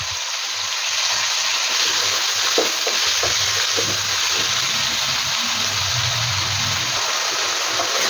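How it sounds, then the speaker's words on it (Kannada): Chopped onion and tomato with salt fry in oil for masala shavige, a continuous close sizzle broken by light stirring clinks and scrapes. "ಈರುಳ್ಳಿ, ಟೊಮೊಟೊ ಎಲ್ಲ ಚೆನ್ನಾಗಿ ಈಗ ಎಣ್ಣೆಯಲ್ಲಿ ಫ್ರೈ ಆಗಿದೆ"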